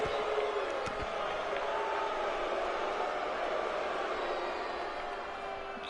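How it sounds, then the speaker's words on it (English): A wrestling crowd jeers Kobayashi at a UPW show, a dense, steady roar of many voices that fills the hall without a break and fades slightly toward the end. "It's the crowd giving Kobayashi the business"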